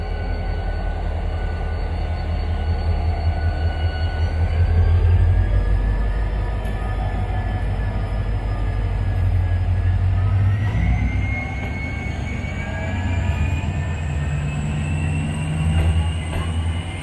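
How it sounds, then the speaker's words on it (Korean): A Korean Mugunghwa-ho passenger train rumbles and hums as it slowly pulls away from a station near Gyeongju, its motor tone rising steadily with faint rail squeals over the low drone. "자, 이 열차가 이제 먼저 출발을 하네요."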